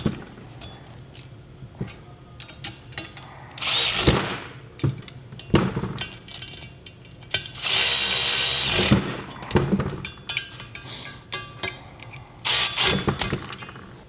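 Power tool snugging down B&W trailer hitch receiver hardware on a 2025 Kia Telluride: several short impact-style bursts, the longest around the middle, separated by quieter clanks and handling noises close by, with no talking.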